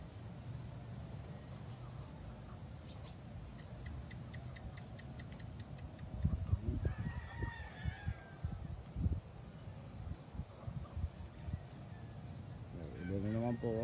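Chickens and a rooster on a farm, with proven hens among the flock: faint clucking and a couple of rising, drawn-out crows, one near the end, heard beneath steady outdoor background and ongoing talk.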